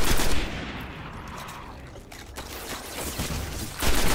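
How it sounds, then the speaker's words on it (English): Gunfire in the Destiny video game crackles as a dense, continuous barrage of shots throughout, loud and close with a noisy, rattling texture and a heavier burst at the start and end. "Getting shot at."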